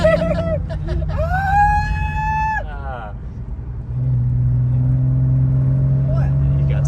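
A Porsche 996 engine roars at full throttle, a rising high-pitched wail climbing and holding before a gear change drops into a deeper steady drone, with excited voices talking over it inside the car.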